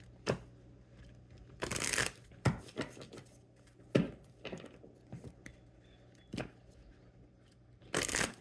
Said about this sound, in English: Let's shuffle and consult the Earth Magic Oracle